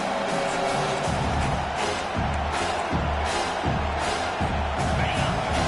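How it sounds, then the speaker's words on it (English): Football stadium crowd roaring behind the defense on third down, a dense steady wall of cheering with rhythmic low thumps and swells, with an announcer talking over it. "Decibels rising as the crowd gets behind this defense on 3rd down."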